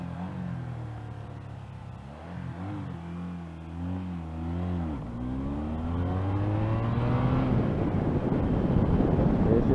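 A 1986 Honda Interceptor 500 motorcycle engine idles high while hot, a steady close rumble with wavering pitch that rises and grows slightly louder toward the end, with no talk.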